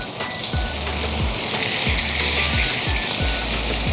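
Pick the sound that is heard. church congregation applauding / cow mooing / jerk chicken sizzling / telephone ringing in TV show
jerk chicken sizzling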